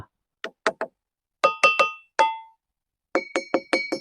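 Stone carvings in a Sennelkudi temple give off clear ringing tones as they are struck, about a dozen close taps in irregular bursts, some faint and some louder with a short bell-like hum, and no voices.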